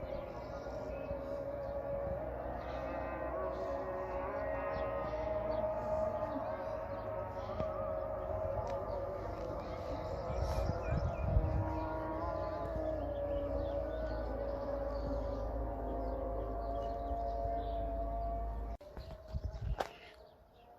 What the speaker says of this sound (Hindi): अभी अज़ान की आवाज़ भी आ रही है